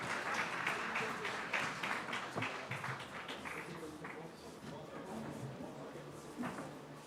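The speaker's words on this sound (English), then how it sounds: "Please, big round of applause," Faint applause at an AI summit in India, scattered claps that thin out and fade over several seconds, with some low talk mixed in.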